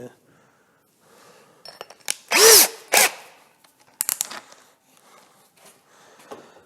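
An Einhell TP-CD 18/60 cordless drill whines in short bursts with a big bit, one loud rising spin in the middle, then scattered clanks and handling noises.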